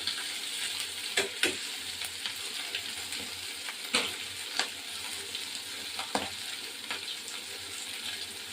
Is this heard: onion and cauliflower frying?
yes